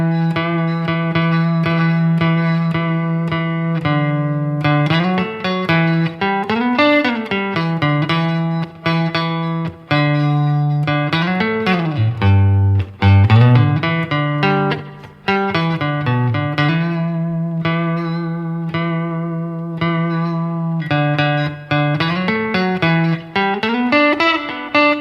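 Electric guitar riff from a song, repeated melodic phrases with bends and sustained notes, played continuously and close for an extended stretch, loud and unaccompanied, no voice.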